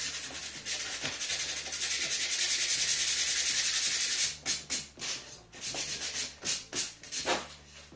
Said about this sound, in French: je vais peut-être poncer un petit peu pour finir